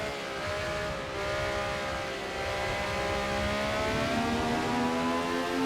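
A Honda race car from Assetto Corsa screams at very high revs around the VIR circuit, its engine note climbing and holding steady. The sound stays loud and continuous throughout, with no talking over it.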